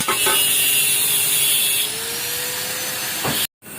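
A Kawasaki Ninja two-stroke exhaust being brushed clean produces a harsh, continuous scraping hiss up close. It eases slightly partway through and then cuts off abruptly near the end.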